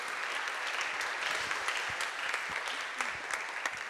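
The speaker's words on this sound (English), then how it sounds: "let's give an applause to Eric" Audience at a Swift programming conference applauds a speaker coming on stage, steady dense clapping throughout, moderately loud and without talk.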